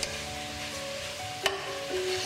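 Ingredients for chicken soup sizzle in a pan on the stove with a steady frying crackle. A sharp clink of a utensil against the pan stands out partway through, followed by a faint tonal ring.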